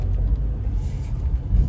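A car driving on a road, a steady low engine and tyre rumble with passing traffic noise, continuous and fairly close, with no talk.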